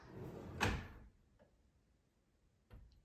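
Self-closing kitchen drawers in a house: one close, solid clunk as a drawer shuts itself, then a faint knock and a sharper tap a moment later, with no talk.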